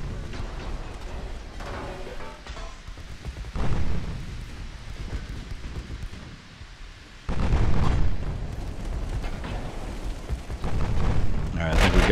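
Torpedo explosions hit warships in the naval battle game Ultimate Admiral: Dreadnoughts, with heavy booming blasts and rumbling bursts, a sudden loud detonation rising midway and lingering, under background game noise.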